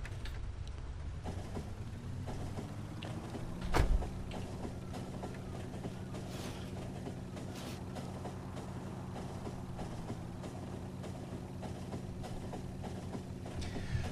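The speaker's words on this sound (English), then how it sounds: "So I stand on the train station and it calls a shuttle train for me." A low, steady electronic rumble of a shuttle train arriving at a station in Factorio, with a sharp click near the start and faint tonal whines throughout.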